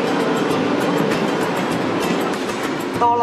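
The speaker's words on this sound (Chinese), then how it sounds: "我哋而家去搭哆啦 A 梦嘅电车啦！" A Doraemon-themed street tram runs along its rails, giving a steady, loud rolling rumble with faint clicks from the track. Near the end a brief squeal of the wheels or brakes rises above it.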